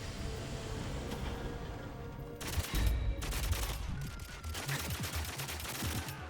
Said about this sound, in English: I feel like the gun sounds aren't very good